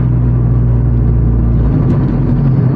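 A modified 500 hp Honda Civic Type R with a T51r turbo and RV6 exhaust drones loudly from inside the car, a heavy steady low rumble while cruising.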